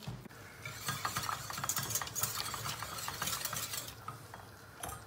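Fresh spinach is chopped with a knife in a home kitchen, a quick, uneven series of crisp cuts over a soft background hum.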